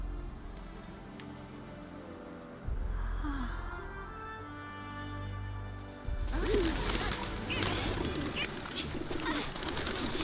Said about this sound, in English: Why would a bunch of pigeons just attack her?